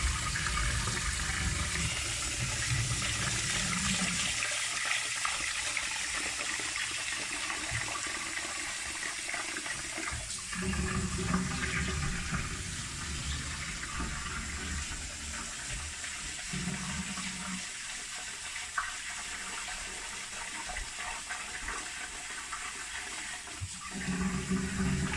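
Tap water runs steadily from a faucet into a sink while basmati rice is rinsed, a loud, continuous splashing rush with small shifts in flow, with no talk over it.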